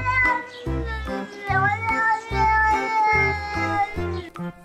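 An angry cat that is kept from going outside yowls and meows over and over in a loud, close rhythm, with no clear hiss standing out.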